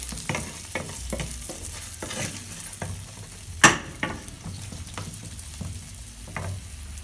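Meatballs fry with onion in a pan, a moderate sizzle broken by repeated spatula scrapes and clacks, including one sharp loud knock midway, all near and free of speech.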